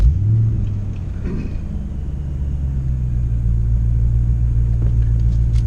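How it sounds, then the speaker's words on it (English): A Ford Mustang engine with a fuel-mixture fault cranks and starts, then settles into a steady, loud low rumble while the car runs down a freeway. No one speaks. "So this is a startup and quick run down the freeway to show a couple of issues."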